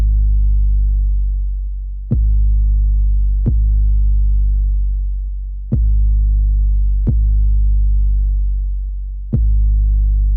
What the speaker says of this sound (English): Moving on to the bass in this track, which is an 808, and it sounds like this